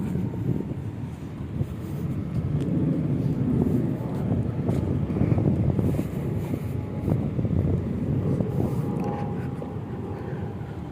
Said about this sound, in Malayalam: ചെറിയ കാറ്റൊക്കെ ഉണ്ട്, തണുത്ത കാറ്റ്